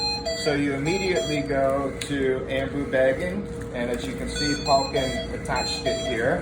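A ventilator's circuit disconnection alarm beeps in repeated tonal bursts while a person talks over it steadily in a clinical emergency department setting.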